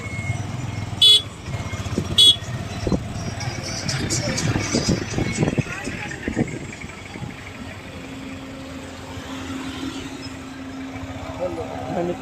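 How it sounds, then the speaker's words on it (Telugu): Heavy road traffic near the Isha temple in Chikballapur on New Year's Day: motorcycle and car engines rumble continuously, two sharp horn toots sound early on, and a steady engine drone runs later. "ట్రాఫిక్ అయితే ఎక్కువగానే ఉంది"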